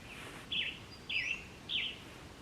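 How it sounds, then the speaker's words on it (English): Birds call in the morning outdoors near a forest home, three short bright chirps evenly spaced about half a second apart, faint and distant over steady background hiss. "I love the birds in the morning."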